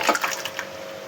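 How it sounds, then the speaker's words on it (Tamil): Mashed dal being poured into simmering vegetables for a South Indian sambar, giving a brief, close, soft wet splash and liquid slosh with no talking. "இப்போ அந்த வேகிற காயில் இந்த பருப்பை கடைஞ்சி ஊற்றிக்கலாம்"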